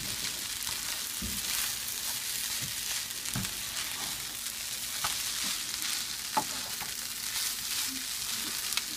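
Fried rice with soy sauce sizzling steadily in a pan, with occasional clinks and scrapes as it is stirred, close and fairly quiet.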